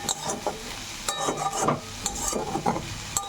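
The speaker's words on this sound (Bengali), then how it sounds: "পটলটাকে এবারে এই আলুর সঙ্গে খুব ভালো করে একটু নেড়ে দেব যাতে আলুর সঙ্গে মিশে যায়" Pointed gourd and potato pieces are tossed in a dry frying pan without water, with rhythmic scraping and rubbing strokes of a spatula over a soft, steady sizzle.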